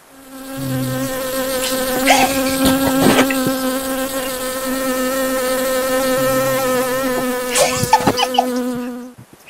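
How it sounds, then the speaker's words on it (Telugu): A mosquito buzzing sound is played close to a sleeping person's ear outdoors under trees, a sustained loud whining drone for several seconds with a few rustling knocks. "చెవులో దోమ సౌండ్ పెడతాం"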